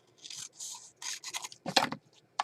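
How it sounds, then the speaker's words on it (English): Scissors cut through mixed media paper at close range in a quiet room, a series of short crisp snips and papery rustles spaced irregularly. "I'm going to cut this with my scissors."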